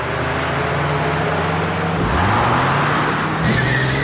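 A cartoon car speeds out of control, its engine droning loud and steady, then rising in pitch with tire noise as it surges and swerves, close and continuous throughout.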